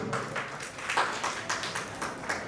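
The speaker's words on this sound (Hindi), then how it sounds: "एक बार जोरदार ताली से स्वागत कीजिए।" Audience at a village Shivaratri program clapping in welcome: a steady, moderately loud patter of many hands, fairly even and sustained throughout, with no voices over it.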